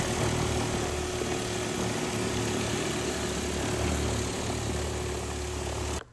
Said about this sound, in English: Gonna hit the back bumper with the power washer as well since I got these off, get it nice and cleaned up.